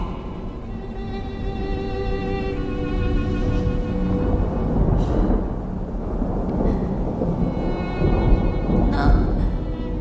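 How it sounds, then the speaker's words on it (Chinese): Thunder rolls as a loud, sustained low rumble after rain has stopped, with a deep continuous roar and a few sharper cracks breaking through over about ten seconds. "雨已经停了， 可是还在打雷。"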